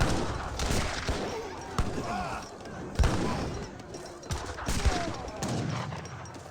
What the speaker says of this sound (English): all these villagers being gunned down